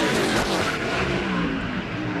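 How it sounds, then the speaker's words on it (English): A NASCAR Busch Series race car engine roars loud and steady as it revs on track, a dense continuous drone with no talking. "Hear the engine rev up."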